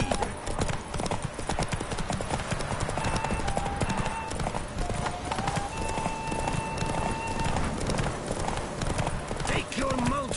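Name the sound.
horse galloping at full speed in video game The Witcher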